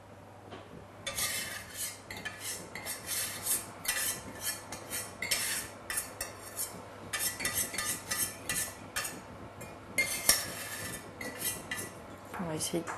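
A spatula scrapes melted chocolate from a saucepan for a chocolate fondant, giving repeated short scraping and clinking strokes in an irregular rhythm, close and fairly quiet.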